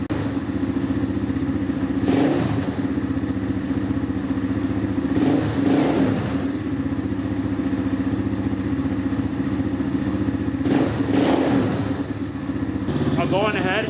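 An Apollo DB36 dirt bike, just started on choke, runs at a steady near idle with three or four sharp throttle revs rising and falling over it, and a voice talks throughout.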